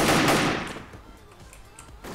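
VKS rifle fire in the shooter game Wolfteam: a loud burst of shots up front that fades into quieter scattered reports, then another crack at the very end.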